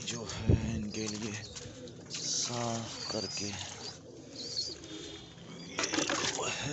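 Pigeons cooing in a cage while it is being cleaned and refilled with water, soft throaty coos repeating near the microphone amid clanking and rustling, with someone talking over them at times.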